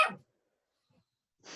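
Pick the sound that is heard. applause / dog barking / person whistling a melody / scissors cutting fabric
dog barking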